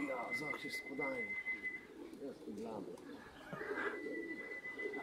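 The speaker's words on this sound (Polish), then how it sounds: "A już gołębie są." Racing pigeons arriving at a loft during a club race flight give soft, repeated coos, with a faint steady whistle behind them while someone talks nearby.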